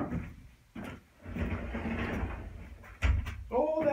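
A pocket door in a bus-to-RV conversion rumbles along its track in a long sliding pass, followed by a knock, with a voice briefly at the end.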